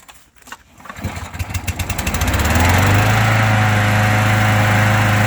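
A lawn mower engine with a newly installed rewind starter is pull-started, sputtering in quick firing pulses that speed up and then settle into a loud, steady close-up running drone.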